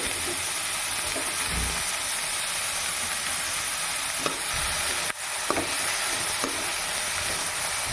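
Finely chopped cabbage fries for mixed vegetable mini parotta, a loud continuous sizzle and hiss in the pan, broken by occasional stirring knocks and scrapes.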